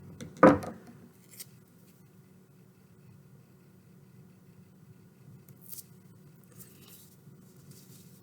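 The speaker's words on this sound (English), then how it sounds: "scissors might get a little sticky." Scissors snip sticky duct tape once, a short close crunch at the start, followed by quiet rustling and faint handling noises.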